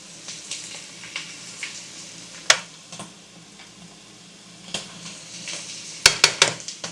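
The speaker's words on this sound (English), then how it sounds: "Stir it in." A spoon stirs flour into browned ground beef for sloppy joes in a pan, with soft scraping and a faint sizzle under it and sharp clanks of the utensil against the pan, loudest near the end.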